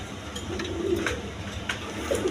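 Giasulli pigeons coo in soft, low, throaty bursts, a couple of short calls spread across the moment against a steady background hum.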